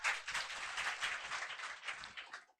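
Students in an Indian polity class applaud classmates, a brisk run of mid-volume clapping that holds steady for a couple of seconds before stopping abruptly.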